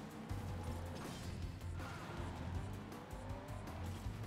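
Kart in the Skylanders game drifting with squealing tires and a droning engine, steady and continuous for a few seconds at moderate level.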